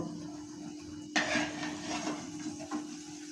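A fried malpua being lifted out of a pan of hot oil: after a quiet start, a sudden close clatter and scrape of utensil on pan, followed by a soft sizzle and one more brief scrape.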